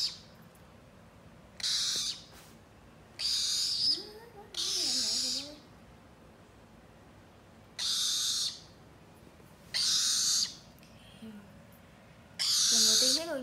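Pet bird calling at close range, several loud harsh bursts of about a second each at irregular intervals, with people talking softly between them.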